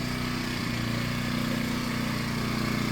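A Predator 1400 watt gasoline inverter generator runs steadily close by, a constant engine hum with an even buzzing drone and no variation in speed.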